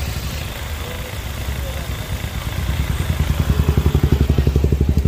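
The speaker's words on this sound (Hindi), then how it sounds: "स्टार्ट है गाड़ी अपनी" A Hyundai Xcent car engine settles into an idle just after starting, with a low running drone that grows into a loud, steady pulsing rhythm close to the microphone.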